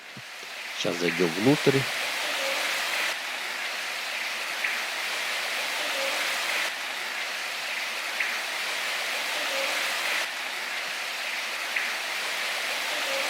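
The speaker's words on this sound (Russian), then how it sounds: "Ну и здесь хорошо слышен шум воды" Steady rushing water fills a grotto, a continuous wash of flow echoing around, with someone speaking briefly in Russian near the start.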